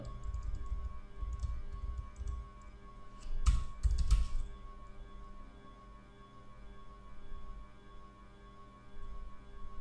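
Keys on a computer keyboard are typed in short bursts with a louder cluster of clacks near the middle, close and fairly quiet, with no one talking.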